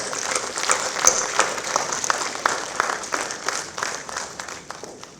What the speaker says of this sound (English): welcome everybody with a big clap